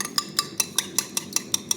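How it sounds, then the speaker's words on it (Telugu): A utensil beating sauce in a bowl, with about ten quick, evenly spaced clinks against the side in a steady whisking rhythm, close up and with no talk. "ఇలా బాగా కొట్టుకోండి"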